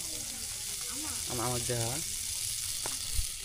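Cooking oil sizzles in a pan in a village kitchen, a constant close hiss and crackle while someone speaks briefly over it.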